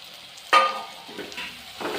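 Long-cut sliced cabbage drops into hot oil and masala with a sudden loud sizzle, then settles into a steady frying hiss with soft stirring scrapes, close and alone.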